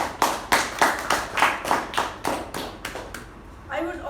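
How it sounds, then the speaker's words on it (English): An audience at a speaking meeting gives a round of applause in sharp, evenly spaced claps that fade out, followed by a voice starting to talk. "a huge round of applause to both the speaker and the"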